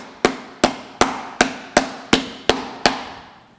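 Eight sharp, evenly spaced whacks pound a pork loin flat, each a loud close thud with a short ringing tail, arriving at a steady rhythm with no talk.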